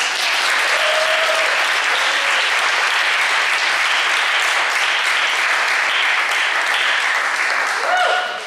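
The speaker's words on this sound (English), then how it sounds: "Give it up for the Soul Singing Ensemble." Concert audience applauds a soul singing ensemble at a music center, a loud, dense, sustained roar of clapping from a large crowd with occasional cheers and whoops mixed in.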